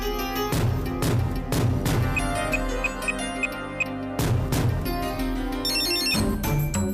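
Telephone ringback on an outgoing call in a Tamil TV serial: repeated ringing bursts under heavy dramatic background music with percussive hits, the tones rising in a quick run near the end.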